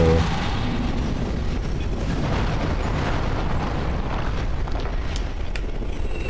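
An enemy exploding in Dark Souls 3: a loud, sustained roaring burst of noise fills the whole stretch, dense and close, with no voice over it.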